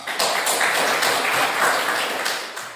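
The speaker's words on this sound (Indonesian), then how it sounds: "Kita berikan tepuk tangan kepada Melianto." A classroom of students gives applause for a fellow student, dense steady clapping from many hands that swells and then tapers off at the end.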